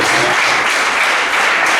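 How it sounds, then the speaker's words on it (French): Audience applause at a community event, a loud, close, dense burst of clapping filling the whole short moment without pause. "Applaudissez."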